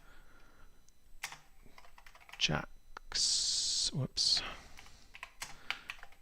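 Typing on a computer keyboard, a short burst of close clicking keystrokes amid scattered clicks, with a person speaking around it.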